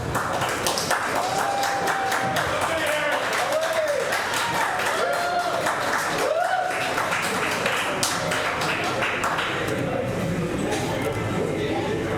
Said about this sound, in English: Yeah, give them a big round of applause there.